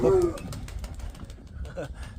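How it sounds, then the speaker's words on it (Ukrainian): A pigeon gives a short coo close by at the start, and someone speaks in a quiet outdoor setting afterward, with faint shuffling and a few soft sounds underneath. "Хороший голуб такий."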